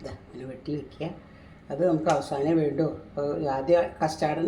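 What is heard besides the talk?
No everyday noises stand out.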